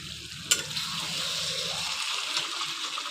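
Meat with garlic, potato and tomato sautés in a pan, giving a steady, close sizzle. A sharp clack of a stirring utensil comes near the start, and the frying continues evenly afterward.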